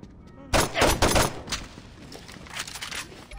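Bursts of video game gunfire from Saints Row 2: a cluster of loud, sharp shots up front, then quieter scattered shots and rattling action continuing behind them.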